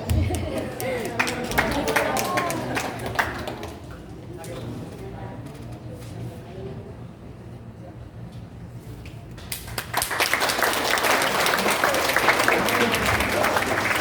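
After a choir's performance at a chorale competition, an audience breaks into applause that builds loud and dense toward the end, with singing and talk heard earlier.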